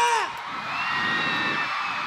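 Audience at a live stage show cheering and shouting, a dense wash of whoops and yells from many voices, one high shout rising above the crowd before the noise settles into a sustained roar.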